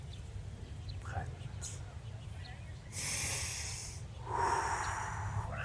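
Deep breathing during a guided relaxation exercise outdoors, with soft breathy inhales and exhales rising around the middle and again near the end over a steady low background rumble.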